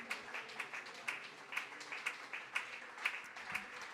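A church congregation claps in steady rhythm, about two claps per second, somewhat distant and fairly quiet, with no talking.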